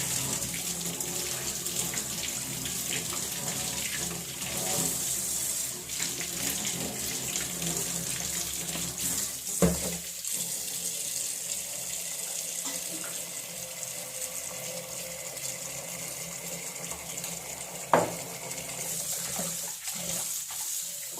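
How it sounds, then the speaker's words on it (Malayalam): Tap water runs steadily into a sink for washing, a continuous hiss and splash with a couple of brief knocks, no talking. "ഇതിൽ ആദ്യം എടുത്തത് കഴുകിയിട്ട് വേണം കുറച്ച് സമയം വെള്ളം ഒഴിക്കുക"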